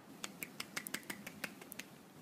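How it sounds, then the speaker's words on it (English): A series of sharp, light snaps or claps from a person clapping with one hand comes at an uneven rhythm, close and fairly quiet against a soft background hiss. "Clapping with one hand."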